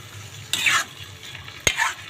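Squid frying in a pan and being stirred, a steady hiss beneath two bright bursts of sizzling, each starting with a sharp utensil knock.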